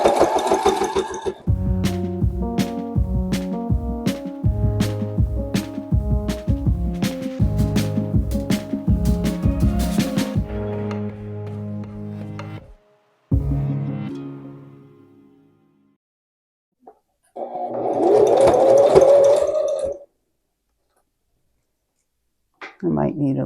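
A sewing machine stitches clothesline rope and fabric for an Easter basket. It runs in several rapid rattling bursts separated by short pauses, then goes quiet, with fainter handling sounds later on.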